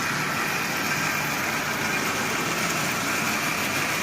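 Marx 490 toy train locomotive, built from parts with a double reduction motor, pulling a load of 19 tin litho cars, a steady continuous motor whir and rolling drone throughout.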